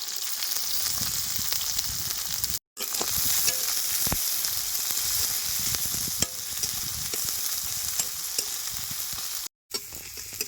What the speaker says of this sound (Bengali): পেঁয়াজ আধা ভাজা করা হয়ে গেছে